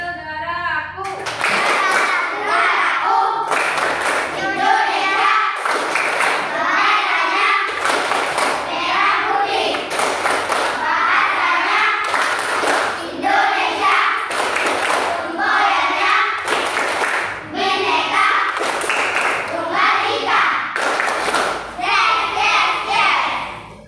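A classroom of children performs the Tepuk Negaraku clapping routine, with sharp group claps in a steady patterned rhythm while children chant along loudly throughout.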